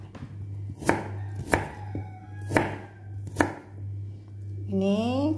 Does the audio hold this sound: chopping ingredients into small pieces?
yes